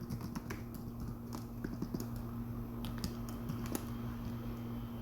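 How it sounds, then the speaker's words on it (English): Typing on a computer keyboard while coding in Java, a close run of quick, uneven key clicks over a low steady hum, with no voice. "You can also type this out again."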